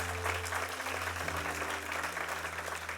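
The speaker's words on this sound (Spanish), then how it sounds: "Dale un aplauso al Señor, por favor." Church congregation applauding during a sermon, a dense, steady patter of many hands clapping at moderate level, with a low hum from the room or sound system running underneath.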